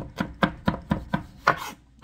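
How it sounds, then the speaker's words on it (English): Knife chopping garlic on a cutting board, seven sharp, evenly spaced cuts in about two seconds, close and loud with no talk. "start chopping."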